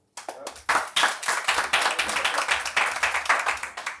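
A comedy show audience bursts into applause, a dense wash of clapping hands that starts abruptly, swells quickly and then settles into steady, slightly thinning rhythmic claps, close and fairly loud with no talk over it.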